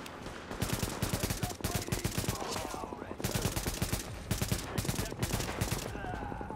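Rapid automatic gunfire in The Division video game, sustained bursts of closely spaced shots separated by short pauses, loud and continuous across the clip.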